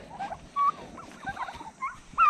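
Several farm turkeys gobble and chatter nearby in short, uneven bursts, with a few louder calls standing out against quiet gaps.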